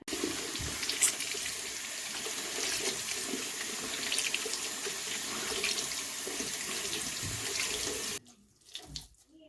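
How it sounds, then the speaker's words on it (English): Tap water running into a sink as soapy makeup brushes are rinsed and squeezed, a steady close hiss with faint splashes that cuts off near the end, leaving a few soft handling sounds. "then I'll rinse it out with water and keep squeezing it until it comes clear"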